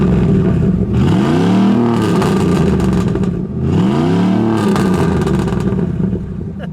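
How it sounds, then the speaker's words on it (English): A 1989 Chevrolet Camaro Z28 IROC 5.7-liter V8 with a slight muffler upgrade revs twice, each rev climbing and falling back in a loud, close burst over a rumbling idle. "Go ahead, Dawn, give it a rev."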